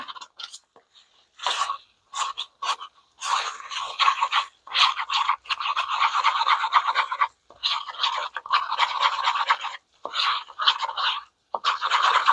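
Scraping of tinted candy colouring off the inside wall of a container while making turtle-shaped treats, a close, gritty scratching in repeated short and longer strokes with brief pauses between.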